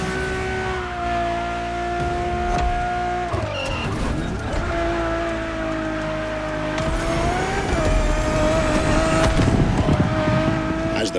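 A Ferrari Enzo supercar races hard in The Crew Motorfest, its engine screaming loud and close through upshifts with tire squeal and rising revs, no talking over it.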